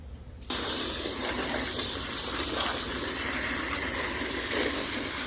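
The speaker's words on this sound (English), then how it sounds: "We're gonna give them a quick rinse to get rid of all that nasty juice." Freshly caught blue crabs rinsed under running water, a loud steady gush from a tap that starts abruptly and pours on continuously.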